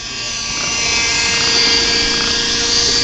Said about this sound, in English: Jon Koppisch doing his annual helicopter flight